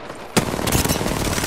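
Rapid gunfire bursts out suddenly in a shooting video game and keeps going as a dense, loud, continuous rattle of shots.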